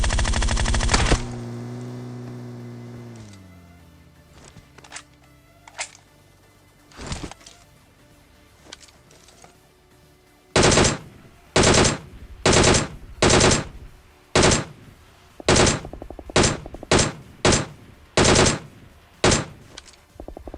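Gunfire in the mobile shooter BGMI: loud, close bursts of automatic rifle fire in rapid groups and single shots, with game engine and buggy noise early on.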